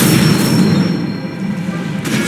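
Incendio fire spell cast in Hogwarts Legacy, a sustained loud whooshing roar of flame with a low rumbling body, steady for about two seconds before easing slightly.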